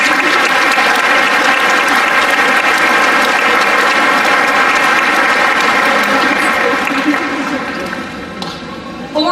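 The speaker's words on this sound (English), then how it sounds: "Let's give our family, friends, teachers, and administrators a round of applause to show how much we appreciate them." Loud, dense applause from a large audience at a high school graduation ceremony, sustained steadily before fading slightly near the end.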